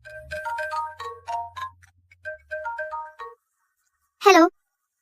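A mobile phone rings with a repeating electronic melody, the ring pattern sounding twice with a pause, followed by a short sharp chirp near the end, in a Hindi-dubbed Chinese office drama.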